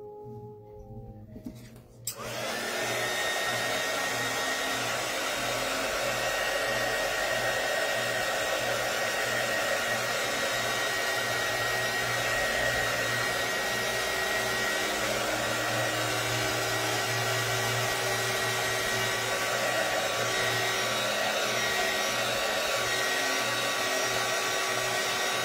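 After a brief moment of quiet, a hair dryer switches on and blows at high speed, a loud, steady, continuous whoosh that runs unbroken to the end.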